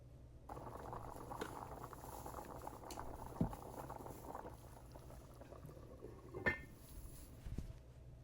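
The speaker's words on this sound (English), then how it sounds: "I covered the pot and allowed it to boil" Goat meat pepper soup bubbles in a covered pot, with a soft continuous burble and patter and a few louder pops, quiet and close.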